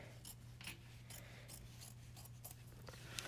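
Scissors trimming fabric close to a seam on an in-the-hoop jellyroll bag: a quick run of soft, crisp snips, close and quiet, with no talking.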